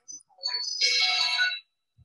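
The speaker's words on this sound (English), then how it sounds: "Sorry about the phone ringing." A phone ringtone chimes in a room, a short run of bright electronic tones that swells into one sustained melodic ring lasting under a second before cutting off into quiet.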